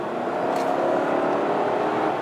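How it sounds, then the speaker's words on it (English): A Hyundai Equus sedan accelerates hard in power mode, a moderate, steady engine roar swelling slightly as it pulls, heard from inside the car without talk. "Mash the throttle, and it's just a different car."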